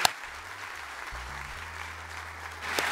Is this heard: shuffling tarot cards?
no